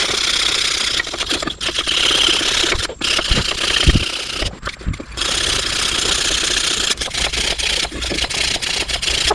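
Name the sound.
wire brush scrubbing surface rust off brake hardware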